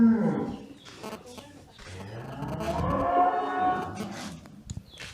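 Cattle on a breeding farm let out a long, deep moo that rises and falls, with faint farm background noise and a brief murmur of voices near the end.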